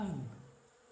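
A soft, steady hum of bees, gentle and continuous, fading slightly over a second with no talking.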